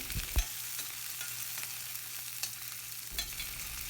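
Chopped onion and garlic fry in a pan, giving a steady close sizzle with occasional scrapes and taps of a spatula, no voices.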